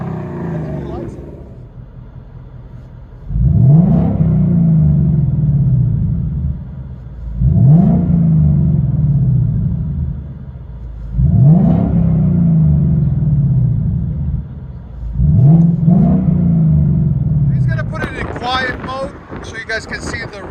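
Loud revving from a Jeep Wrangler's engine through an active exhaust, four separate deep blips that swell and fade at roughly even intervals, close up, ending in wind buffeting against the microphone.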